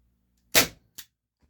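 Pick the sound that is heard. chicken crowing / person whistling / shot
shot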